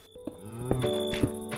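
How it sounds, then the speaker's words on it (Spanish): A cow in the Minecraft video game gives a short, close, clear moo with a low, drawn-out tone. "Una vaca."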